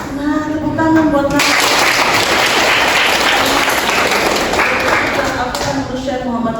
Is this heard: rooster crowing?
no